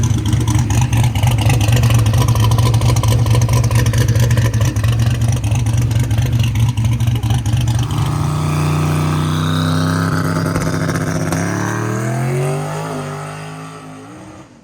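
A car engine, apparently turbocharged, revs hard under heavy acceleration, loud and close, then pitch drops and climbs again through a gear change before easing off near the end.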